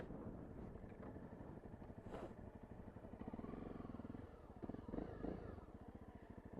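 A Honda CRF250L with a 250 single-cylinder engine and standard exhaust, running on standard tyres with a chain in need of adjustment, gives a steady throbbing engine drone while ridden, heard faint and distant with rushing wind noise.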